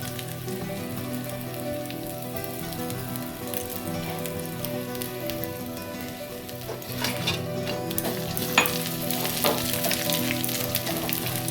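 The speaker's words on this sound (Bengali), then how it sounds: "কাঁচা আদার গন্ধ যাতে না বেরোয় তার জন্য আদাটাকে আপনারা ভালো করে ভেজে নেবেন।" Steady oil sizzle and frying crackle as ginger fries in a wok, with occasional sharper pops and a slight rise in intensity toward the end.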